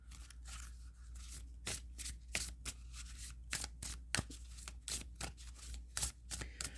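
Oracle cards being shuffled by hand, a run of quick papery riffles and slides repeating close up against a low steady hum, with no talking.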